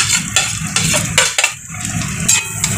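Metal utensils scrape and clatter against a pan in quick, repeated strokes as pre-fried chicken, prawns and sausage are stirred, with a faint sizzle underneath.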